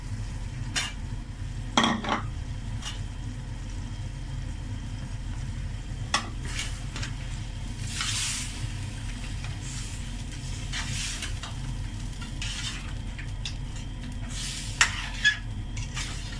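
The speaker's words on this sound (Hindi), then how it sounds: "दही के साथ मैं इसको 3 से 4 मिनट जो है वो फ्राई करती हूँ, अच्छी तरह से ये फ्राई हो जाए।" Chicken fries with full cream yogurt in a pot for a smoked Dhuwan chicken karahi, a low steady sizzle under occasional utensil scrapes and clinks, close by and fairly quiet, no voices.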